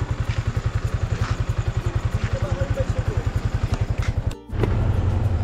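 A motorcycle engine runs during a ride with a fast, even thumping pulse, loud and close. Near the end it cuts out briefly with a clunk, then comes back as a heavier, steady drone.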